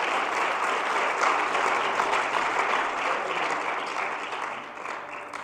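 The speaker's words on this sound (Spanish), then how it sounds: "Denle un aplauso al Señor con todo el corazón." A church congregation claps in steady, sustained applause during a Spanish-language service in Portland, close and full, easing off slightly toward the end with no talking over it.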